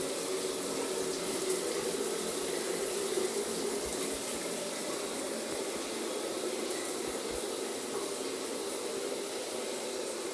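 A rain shower head in a remodeled curbless master bathroom pours a steady, dense hiss of falling water. The sound stays even and constant throughout, fills the space close by, and has no talking over it.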